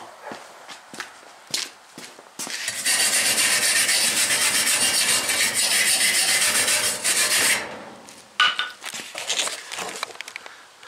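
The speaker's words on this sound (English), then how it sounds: "We're going to grind this on the wire brush." Metal parts ground against a wire brush wheel, a loud continuous rasping whir for about five seconds, framed by scattered clanks and shop handling noises before and after.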